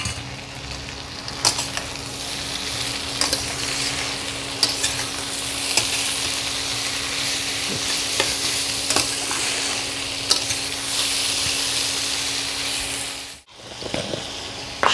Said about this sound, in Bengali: এবার আমি নুডলসগুলো ভেজে নেব।